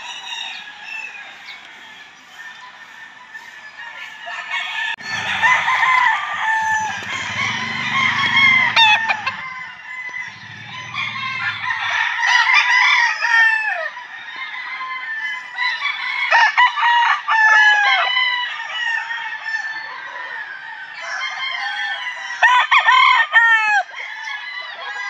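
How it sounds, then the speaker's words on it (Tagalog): Pure white Kelso gamefowl roosters crow repeatedly while hens cluck nearby, with overlapping calls from several birds at varying distances and a brief low thump partway through. "Bibidyo tayo ng mga manok."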